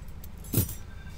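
Keys set down on a car's anti-slip rubber dashboard pad, giving one short, soft metallic jingle and thud over a low steady hum of background noise.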